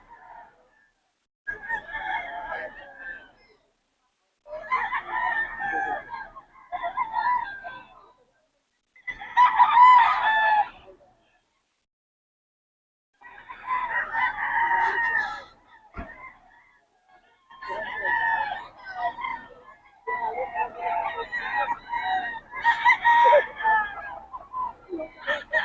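Lemon Sweater bullstag roosters crowing repeatedly at a Bocaue market, several loud calls in bursts with short pauses, some clucking, people talking nearby.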